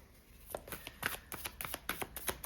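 Tarot cards shuffled by hand close up, a quiet run of quick papery riffles and soft slaps in an uneven rhythm, no talking.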